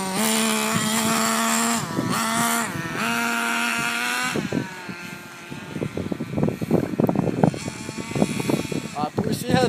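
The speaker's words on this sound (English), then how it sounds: "So now you pull this up and down like a lawnmower." A nitro-powered 1/10 scale RC truck engine buzzes loud and close, shrill and high-revving, then sputters and crackles unevenly as it idles and revs, with someone talking over it.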